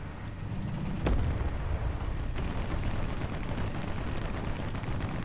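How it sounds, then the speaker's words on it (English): A T-54 tank's ammunition explodes in War Thunder Mobile, a sharp blast followed by a loud, dense, sustained roar of crackling detonation and rumble, with a second fainter crack midway. "T-54 destroyed, ammunition exploded"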